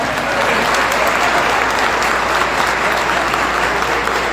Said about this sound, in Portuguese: olha aqui, palmas pra ela, gente.